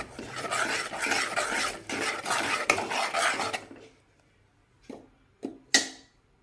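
Scraping and clinking of a spoon stirring sambar with boiled toor dal in a metal pot, busy and close for about four seconds, then a few separate sharp knocks against the pot.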